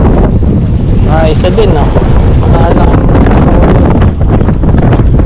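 Strong wind buffets the microphone at an outdoor tilapia fishing pond, a loud continuous roar and rumble throughout, with someone speaking briefly over it.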